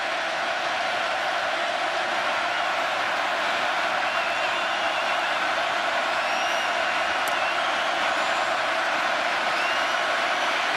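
A stadium crowd roars at Kyle Field during a Texas A&M college football game against LSU, with a dense, sustained wall of cheering and noise and occasional whoops riding on top.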